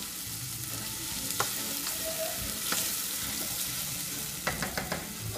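Mussels and spinach cook in olive oil for a mussel soup, giving a steady broadband sizzle throughout with a few sharp utensil clicks and scrapes scattered over it, no voices.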